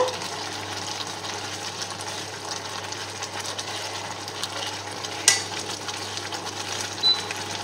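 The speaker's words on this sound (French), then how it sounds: "on va laisser doucement le riz absorber le bouillon" Rice gently simmering in broth for a salmon risotto: a soft, steady bubbling hiss with a low hum beneath, broken by a couple of brief clinks, with no talking.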